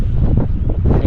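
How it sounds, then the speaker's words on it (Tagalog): Strong wind buffets the microphone with a loud, continuous low roar and gusty rumbling throughout. "Gawa nung malakas na naman ang hangin."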